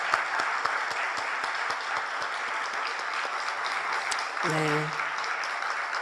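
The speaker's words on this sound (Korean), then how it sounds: "우리 감사와 영광의 박수 올려드립니다" A church congregation claps steadily after an orchestra's hymn at a Sunday evening service, dense applause filling the room throughout. A voice briefly says something near the end.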